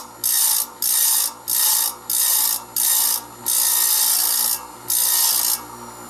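A saw blade is sharpened on a blade sharpener, with seven loud, bright grinding passes of about half a second to a second each, separated by short pauses, close by and without talk.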